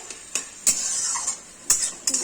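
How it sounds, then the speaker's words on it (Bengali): Cooked bitter greens (beto shak) being stirred in a pan, giving a few sharp utensil scrapes and clinks against the metal over a faint steady sizzle, close by. "একটু নাড়াচাড়া করে শাকটা তুলে নেব"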